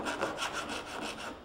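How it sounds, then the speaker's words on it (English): Coarse hand file worked back and forth at a 45-degree angle to chamfer a panel edge, giving a close, rhythmic rasping in quick repeated strokes. "start filing it back and forth in reciprocating action and start rotating the panel around"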